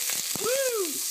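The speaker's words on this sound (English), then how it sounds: "I still want to add that wonderful sizzle to my chicken and get that braised effect." Chicken sizzling in a couple tablespoons of oil in a pan for a Korean-style braise: a steady frying crackle with a few soft clinks, and a brief high rising-then-falling whine over it.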